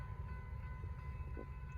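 A Norfolk Southern freight train passing in Gaffney, South Carolina, a steady low rumble of rolling cars with faint wheel clicks, heard from a moderate distance, no talking.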